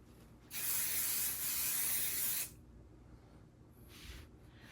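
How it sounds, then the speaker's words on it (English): Mist spray adhesive hisses from an aerosol can onto a quilt in one steady two-second burst, followed by a brief, fainter puff, close by and without talking. "I'm just sure to get the edges lined up properly by putting this spray adhesive on."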